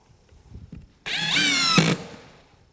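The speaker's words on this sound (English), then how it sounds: "if you're just driving deck screws, simple 2-inch drywall screws" A Ryobi HP 18V brushless compact impact driver drives a 2-inch drywall or deck screw into wood in one close, loud burst of about a second, starting abruptly after quiet handling noise and ending with a brief hammering rattle before stopping.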